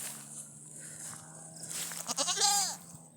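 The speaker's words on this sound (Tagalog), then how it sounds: "Dito ko pinapastol minsan yung mga kambing ko." A goat bleats from out in a farm pasture, a single wavering call rising over quiet outdoor ambience after a stretch of low background hum.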